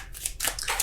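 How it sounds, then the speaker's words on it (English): Tarot deck being shuffled by hand, quick bursts of riffling card rustle and flicks in short bright clusters, close and fairly loud, with no speech. "so I'm going to keep shuffling because that was way too many."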